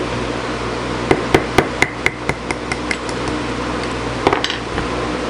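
Hammer taps knocking a feed into a small metal nipple: a steady run of about eight sharp metallic knocks, loud at first and softer later, then a few quicker taps after a pause.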